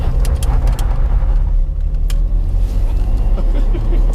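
A Ferrari Testarossa driving, heard as a loud, steady low engine and road rumble from inside or close by, continuous for the whole stretch, with no talk.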